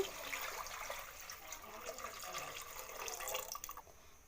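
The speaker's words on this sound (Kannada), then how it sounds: "ಇವಾಗ ಇದಕ್ಕೆ ನೀರು ಹಾಕೊಳ್ಳೋಣ" Water pours steadily into a pot of rice for ghee rice, with a continuous splashing gurgle, fading out at the end.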